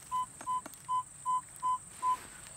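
A Minelab Etrac metal detector sounds over a coin, giving six short, evenly spaced beep tones, each clear and close, with a steady faint hiss underneath and no talk.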